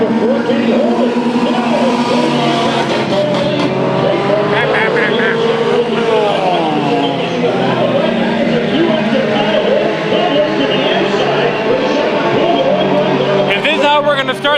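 Race cars roar around Bakersfield Speedway in a heat race, engines droning and rising as they power through the turns, loud and continuous under excited announcer commentary.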